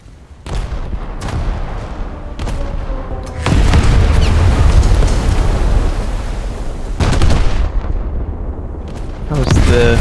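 Heavy naval gunfire and shell explosions from the German battleship Scharnhorst in World of Warships: loud booming salvos and blasts in repeated bursts over a constant rumbling battle din, with a few sharp cracks and a faint voice in places.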